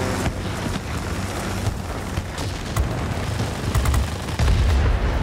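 Aircraft guns fire in World of Warplanes 2.0 over a constant engine drone, making dense, rapid bursts of gunfire that keep going across the clip and grow louder and heavier toward the end, with no talking.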